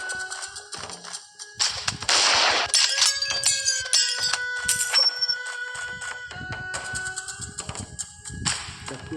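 Sharp, punchy gunshots crack in quick bursts amid layered electronic game music and effects in the video game Ninja Arashi 2, loud and close.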